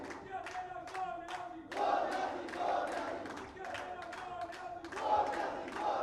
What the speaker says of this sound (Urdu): گو نیازی گو کے نعرے